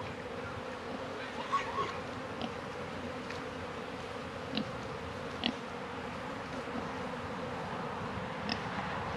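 Honeybees swarm and buzz steadily around an opened farm beehive during an inspection, a continuous close insect drone with occasional louder passes as individual bees fly near.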